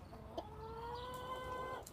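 Backyard farm chickens cluck and call softly in a drawn-out vocalization over a steady low outdoor background.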